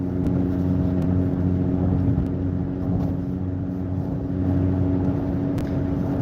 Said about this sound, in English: hopefully you guys can hear me over the growl of my car